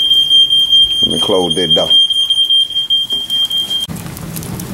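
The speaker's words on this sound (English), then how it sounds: "Damn, my goddamn smoke alarm done went off." A home smoke alarm goes off during a backyard barbecue, giving a loud, steady, high electronic tone for nearly four seconds before cutting out. Someone speaks over it.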